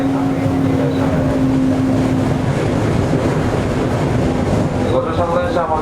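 A Toei 5300 series commuter train runs steadily on a local service toward Kanazawa-bunko, with a loud continuous rumble, wheel noise and a faint whining motor tone filling the interior.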